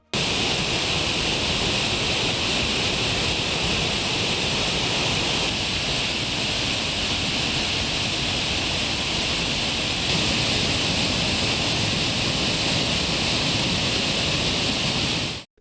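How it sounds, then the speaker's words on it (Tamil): The Suruli waterfall in Theni, Tamil Nadu, swollen by heavy monsoon rain in the Western Ghats, roars as a dense, constant rush of falling water, loud and unbroken. "மேற்கு தொடர்ச்சி மலைப்பகுதிகளில் கொட்டி தீர்க்கும் கனமழையால் சுருளி அருவியில் தண்ணீர் ஆர்ப்பரித்து கொட்டுகிறது."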